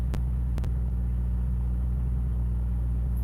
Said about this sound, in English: Oh, I turned the truck on.